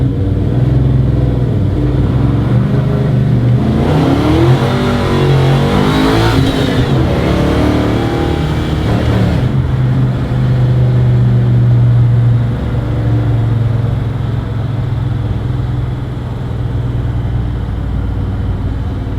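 A Chevrolet small-block 400 V8 with a 283 crank and Tremec TKX transmission drives and revs, a loud, steady engine drone swelling into a rising rev in the middle before settling back to cruising.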